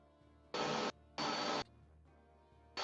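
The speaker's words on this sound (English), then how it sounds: "There's a vacuum going on over there." A vacuum cleaner or drill runs in the background of a Final Fantasy Tactics game session, starting and stopping in three sharp, even bursts of whirring over a low hum.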